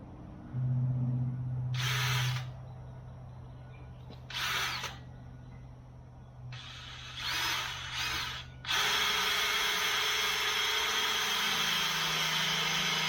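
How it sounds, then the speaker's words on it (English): A power drill bores bolt holes for a tractor attachment, running in several loud bursts of a few seconds each before a longer continuous run, with no talk over it. "Let's get the holes drilled."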